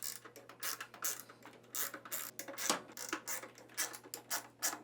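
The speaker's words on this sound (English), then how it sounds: "Then, using a 10mm socket, remove the 6 bolts holding the stator assembly in place." A 10mm socket ratchet clicks in quick uneven bursts while removing the six bolts holding a washer's stator assembly, close and fairly quiet, with no talking.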